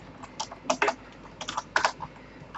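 Quick, uneven bursts of keystrokes on a computer keyboard as someone types code, with clusters of clicks and short pauses, close and fairly quiet with no voices.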